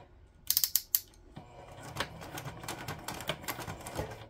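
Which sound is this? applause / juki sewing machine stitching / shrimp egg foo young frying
juki sewing machine stitching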